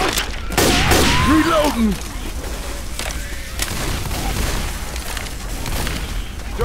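A pipe bomb blast and a fusillade of gunfire in Left 4 Dead, a loud boom early on followed by sustained rapid shots, with game voices talking over it.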